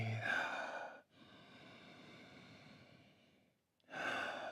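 A person breathing during a guided posture exercise: a loud inhale, a long steady airy exhale, a brief pause, then another strong breath, close and alone with no talk.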